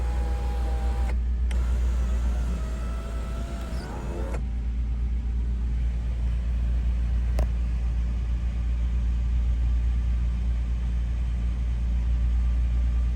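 A 1994 Toyota FZJ80 engine idles with a steady low rumble throughout, joined early by a brief whirring of an electric motor before settling into an even, continuous hum.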